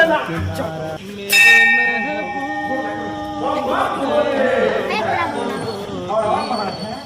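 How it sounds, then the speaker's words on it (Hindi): A temple bell is struck once, sharp and ringing, with a lingering metallic tone, while people talk loudly around it before and after the strike. "चल ने घंटी बजबै छी।"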